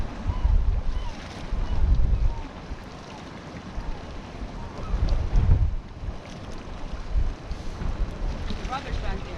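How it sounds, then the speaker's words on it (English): Gusty wind buffets the microphone on an exposed sea cliff near Lismore and Glen Lonan, rising and falling in loud, rumbling surges with a steady broadband roar beneath. "Otherwise the stove is going to get troubled by the wind."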